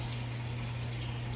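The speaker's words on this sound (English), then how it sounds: "I'm just giving them a once over with water." Running water pours steadily over hands being rinsed, a soft continuous gush with a low hum beneath, no talking.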